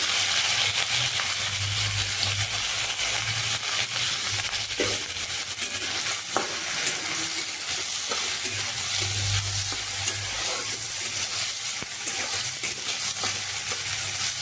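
Washed arhar dal fries in hot oil with panch phoron tempering spices, a steady close sizzle with occasional stirring scrapes, alone without talk.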